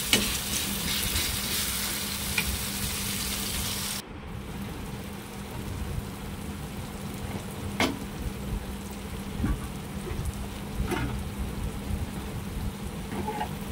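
Tomato sautéing in a pan gives a constant hiss and crackle, close and even, with occasional spatula scrapes and a short drop in level early on.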